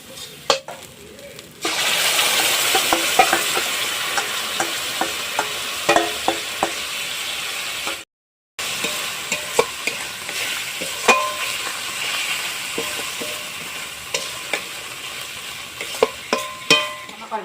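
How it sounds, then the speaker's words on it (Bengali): Masala frying in a pan after sour yogurt is added for a katla fish curry, a continuous close sizzle with regular spoon scrapes and taps of stirring, broken by one brief silent gap. "আমার মশলাটা ভাজা হয়ে গেছে এখন আমি টক দইটা দিয়ে দেবো"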